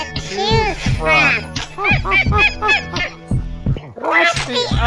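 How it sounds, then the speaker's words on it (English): Honking goose-like fowl calls, a burst of loud nasal cries at the start and again at the end, with short clucking squawks between, close by. "So many succulent ducks to choose from."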